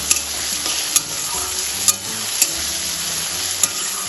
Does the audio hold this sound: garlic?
yes